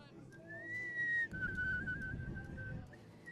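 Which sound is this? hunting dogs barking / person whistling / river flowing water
person whistling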